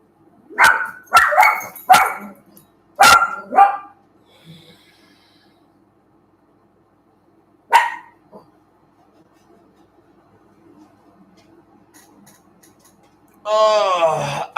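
Dogs at home bark in a quick cluster of loud, close woofs with snorts and breathing, fall quiet, give one more bark, then a person's voice comes in at the end.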